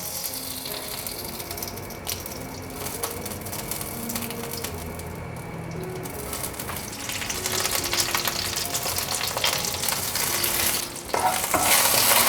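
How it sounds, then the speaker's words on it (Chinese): Washed curry leaves crackle and spit in a little oil in a pan, heard close and continuous with a spatula scraping and stirring throughout, the sizzle growing louder and harsher toward the end. "锅内放入少许油，咖喱叶洗干净了，把它摘放进来"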